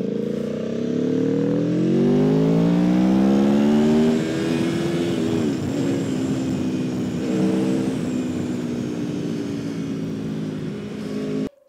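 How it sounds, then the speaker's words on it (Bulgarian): An Aprilia Tuono V4 1100 Factory motorcycle's V4 engine revs loud and close, rising in pitch through the first few seconds, then holds a steady, throaty drone with small pitch dips before cutting off at the end. "И този звук на V4 също доста ми гали егото."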